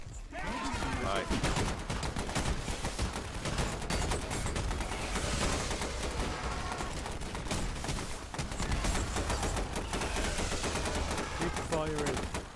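Dense, continuous gunfire from a Half-Life boss battle against rebels, with rapid machine-gun bursts and overlapping shots throughout, loud and close, with a voice talking over the din.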